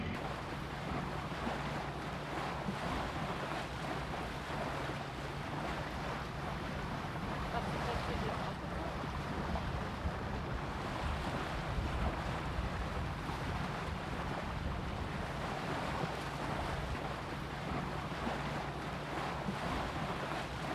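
Steady, dense wind and water rush fills the whole stretch as a sailboat pushes through a narrow, shallow strait in strong Meltemi wind and waves, a constant roar with no breaks.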